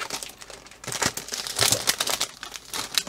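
Plastic diamond painting kit bag from Diamond Art Club being folded back up, giving a close, busy run of crinkling and rustling with louder bursts, no talking.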